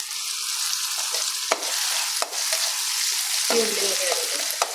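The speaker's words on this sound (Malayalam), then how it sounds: "ഉലുവ ബ്രൗൺ നിറായി കഴിഞ്ഞാൽ ചെറിയ ഉള്ളി ആഡ് ചെയ്യാം." Small onions frying with fenugreek in a pan, a steady close sizzle with a few brief stirring knocks; no talk.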